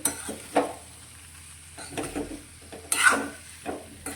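A spoon stirs dry spiced potato shaak in a pan, producing intermittent scraping and light clinks over a faint background sizzle, fairly quiet and close.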